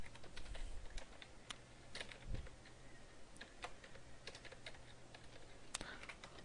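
Quick, irregular keystrokes clatter on a computer keyboard while C code is typed, the clicks coming in short bursts with small pauses, fairly quiet and close.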